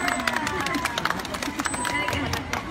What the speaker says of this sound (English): clap, clap, more